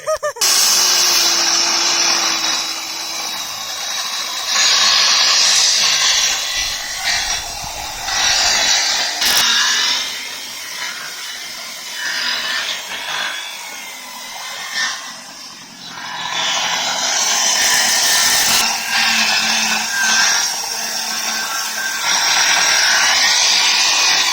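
A power tool cuts a length of timber in half for a garden bed, a loud whirring and grinding that surges and dips over about twenty seconds, close by, with short pauses and no talk.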